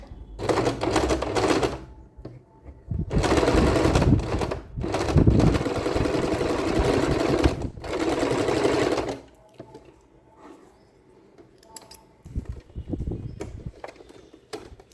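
A sewing machine stitches crocheted frock pieces together in bursts of steady, fast mechanical whirring, with three long runs broken by short pauses and then quieter handling noises.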